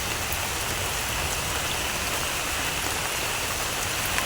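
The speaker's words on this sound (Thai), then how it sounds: "ฝนก็ตกโอ้ฝนก็อ่อยครับผม" Steady rain falls through the night outdoors, a dense, continuous hiss with no pauses, loud and close.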